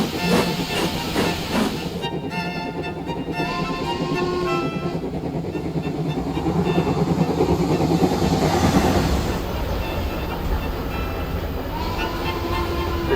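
A heritage steam-era train passes on the Severn Valley Railway, producing a loud, continuous rumble and rolling clatter with faint tonal whistle-like notes rising through it, steady throughout and without clear speech.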